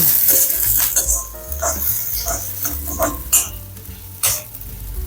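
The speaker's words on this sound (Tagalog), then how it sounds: "Igisa lang natin ang konting sibuyas. Lagyan na rin natin ng konting bawang." Onion and garlic sautéing in oil in a pan for pansit bami, with steady close sizzling under repeated stirring and scraping, plus a few sharp utensil clinks against the pan.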